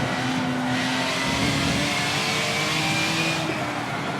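Race car engine in Forza Motorsport 7 holding a steady, loud drone with rising revs and a faint tire squeal, continuous throughout with no talk.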